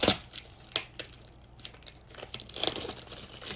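Plastic delivery packaging holding yarn is crinkled and torn open in a few sharp bursts, with quieter rustling between them, close and fairly loud, and no talking.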